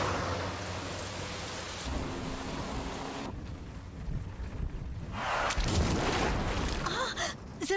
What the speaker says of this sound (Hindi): कितनी तेज बारिश है, देखिए ना शहर में घुसते ही शुरू हो गई।